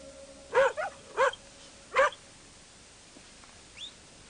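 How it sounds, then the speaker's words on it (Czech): A dog barks three times in quick succession, fairly close and clear, followed by a faint whimper or yip against a quiet background. "slyšel jsem psi štěkat"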